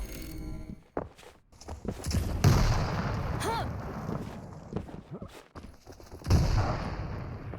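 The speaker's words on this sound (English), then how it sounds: "ma1kl's using some rocket jumps" Rocket launcher fire and rocket jumps in the video game Quake Champions during a duel match, with repeated booming blasts and explosions among footsteps and movement, heard under continuous commentary talk.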